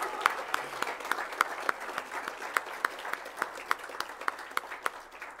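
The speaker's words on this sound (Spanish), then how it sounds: "fuerte aplauso." A crowd at the closing ceremony of a national conference applauds, a soft, distant wash of clapping with a few sharper individual claps standing out at fairly regular intervals throughout.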